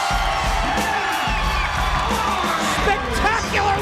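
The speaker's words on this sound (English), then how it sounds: "The crowd going crazy." Wrestling arena crowd roaring and cheering after Jeff Hardy wins a six sides of steel tables match at TNA Lockdown 2005, a loud, sustained wall of yells and whoops with a commentator talking over it.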